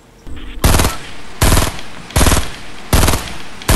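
Bursts of automatic gunfire in the video game Fortnite, four loud rapid volleys separated by short pauses, with a faint sound just before the first burst.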